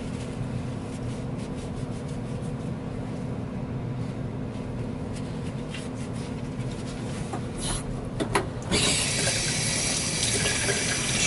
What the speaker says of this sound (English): Sure to rinse it so all the baking soda comes off.